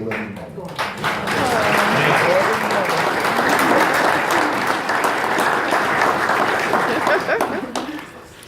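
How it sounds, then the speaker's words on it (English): Sustained audience applause at an Eagle Scout ceremony, dense clapping swelling quickly and holding steady for several seconds before tapering, with voices murmuring underneath. "We salute these gentlemen and applaud them for their efforts,"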